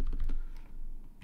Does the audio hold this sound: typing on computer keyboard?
yes